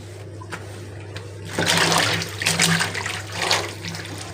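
Tap water runs and splashes while dishes are washed, starting as a quiet trickle and then gushing louder in uneven bursts, with faint clinks.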